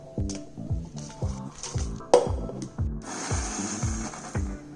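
Vegetarian kimchi spice ingredients are ground at home in India in a small electric grinder, which hums in short, regular pulses before running steadily louder, with a brief exclamation partway through.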